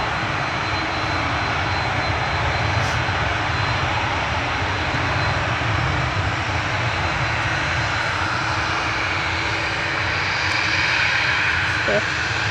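An Aer Lingus airliner taxiing onto the runway at Manchester Airport for departure produces a continuous, fairly loud engine rumble and whine with a faint high tone, steady throughout, with someone talking over it.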